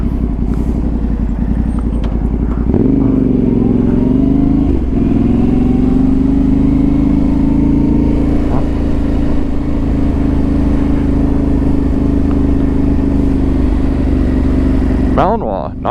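A Yamaha Tenere 700 motorcycle rides through city streets in Venice, California, its mid-pitched engine droning steadily and close after a rev-up, with slight pitch shifts as it accelerates and a rider occasionally talking over it.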